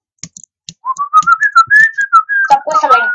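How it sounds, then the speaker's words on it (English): A person whistles a short wavering melody, clear and close, with a few soft taps before it and a burst of mixed noise at the end. "Stop whistling. It's annoying"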